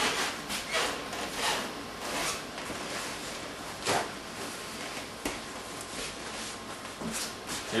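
A spoon scrapes and stirs through a pot of beets and sugar syrup being heated for canning, giving soft irregular rubbing and scraping sounds at close range with no talk.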